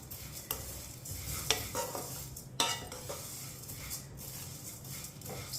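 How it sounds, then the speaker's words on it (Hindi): Colored vermicelli gets stirred in a pan over low heat, with a soft continuous sizzle broken by several sharp scrapes and clinks of the spoon against the metal, close up and with no talking. "एक प्याली कलर वाली सेवियां डालेंगे, मिक्स कर लेंगे।"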